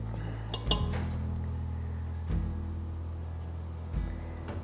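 A spoon clinks a few times against the metal insert of an Instant Pot while stirring chicken and broccoli in thickened broth, with sparse knocks over a steady low hum.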